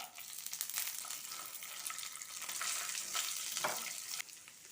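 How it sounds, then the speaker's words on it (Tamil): Garlic and spices frying in a pan for egg kurma, a soft, steady sizzle with gentle stirring scrapes, fairly quiet and close. "கருகிராமல் எல்லாத்தையும் பொன்னிறமாக வறுத்துக்கணும்"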